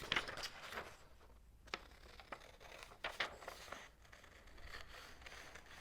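Kitchen scissors snipping through a paper template for a heart garland craft, a few faint, close, crisp cuts scattered among soft paper rustles in a quiet room.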